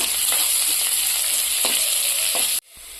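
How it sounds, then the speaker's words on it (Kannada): Chopped garlic fries in oil in a pan, making a dense, steady sizzle up close that cuts off abruptly near the end, with no voices. "ಸಣ್ಣದಾಗಿ ಕಟ್ ಮಾಡಿರುವಂತಹ ಬೆಳ್ಳುಳ್ಳಿ ಚೂರುಗಳನ್ನ ಈಗ ಹಾಕೊಳ್ಳೋಣ ಫ್ರೈ ಮಾಡ್ಕೊಳ್ಳೋಣ"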